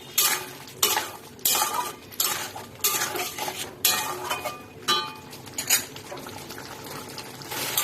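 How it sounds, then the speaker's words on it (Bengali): Fried potatoes being stirred into a spice paste with tomato sauce for an egg curry, a utensil scraping and clinking against the pan in repeated bursts, close and fairly loud with no talk. "এই আলুটাকে দিয়ে মশলাটাকে একটু কষিয়ে নেব।"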